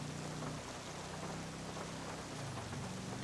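Steady rain in the video game GTA 5 hisses evenly across the whole stretch, a constant wash of falling drops with a low hum underneath.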